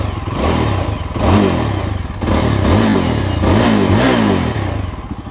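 A Yezdi Adventure motorcycle runs with its dB killer removed, and the exhaust is loud. It idles close up with a burbling note, then gets several quick throttle blips that rise and fall in short revving bursts.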